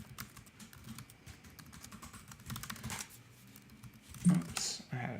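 Code typed on a computer keyboard, a steady stream of light close key clicks and taps with a brief louder clatter near the end, under a voice talking.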